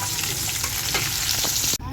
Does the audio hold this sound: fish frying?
yes